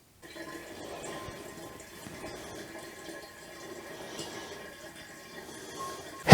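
Homemade parsnip wine being racked and siphoned for bottling, a faint continuous trickle and gurgle of liquid through a tube, steady throughout and ending with a brief louder knock.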